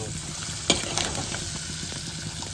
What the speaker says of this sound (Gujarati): આવી રીતે મેથીના થેપલા તળવાના છે